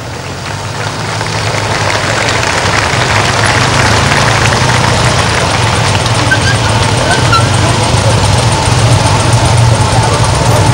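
A formation of police motorcycles from a Baden-Württemberg state police display team in 1990 rides in a demonstration, giving a steady, loud engine drone that holds throughout, with a low idling rumble underneath.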